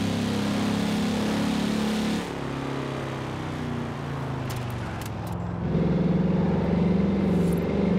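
Cadillac-style V8 engine from a Forza Horizon 4 car, a steady low rumble that dips around the middle and then swells louder and deeper toward the end, with no talking over it.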